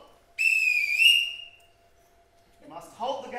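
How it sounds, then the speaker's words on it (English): A referee-style whistle blown to halt a game gives one long, loud, shrill blast lasting over a second, followed after a short pause by a person speaking. "if at any time you hear this whistle"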